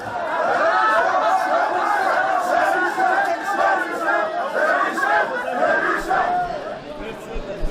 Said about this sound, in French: Des explications qui se sont terminées par des huées assourdissantes dans toute la salle.